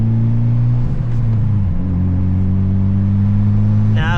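A tuned Mitsubishi Evo X making 450 wheel horsepower drones steadily while driving, its exhaust a loud, deep, smooth rumble with a stable low tone and a slight shift in pitch partway through.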